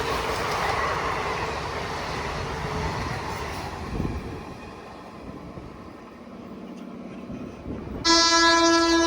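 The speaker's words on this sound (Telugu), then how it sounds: "ఇప్పుడు మన జన్మభూమి అన్నది ఓవర్టేక్ చేసుకుంటూ వెళ్తుంది వ్యాప్ 7తో" A Janmabhoomi Express hauled by a WAP-7 electric locomotive overtakes at high speed, a loud close rush of wheels and coaches that eases off and then ends in a sharp, sustained horn blast.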